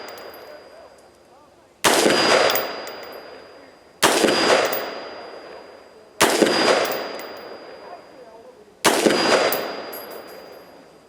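Four loud, separate shots from a Brownell's Retro AR-15 prototype rifle fired at steel targets, about two seconds apart. Each sharp crack is followed by a long ringing decay.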